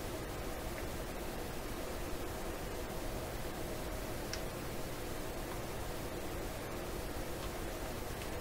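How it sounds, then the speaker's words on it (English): Steady low hum with a broad hiss over it from a 1928 RCA Victor Model 28V TRF radio, constant and unbroken throughout, with faint ticks here and there. "They both seem to be overcome with hum signal of some sort."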